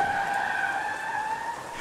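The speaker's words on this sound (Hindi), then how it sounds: "और उन्होंने अपनी गाड़ी रोकी।" A car brakes to a stop in an audio drama, giving off a loud, sustained tonal squeal of tyres and brakes that holds steady and fades slightly toward the end.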